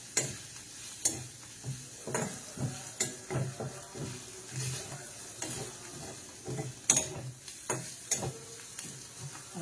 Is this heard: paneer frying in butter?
yes